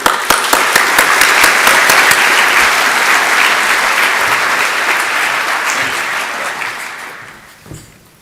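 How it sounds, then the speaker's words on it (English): Loud applause from a conference audience at an agricultural forum, a dense wash of clapping from many hands that holds steady for several seconds, then thins and fades out near the end. "Let's all give Sam a quick applause."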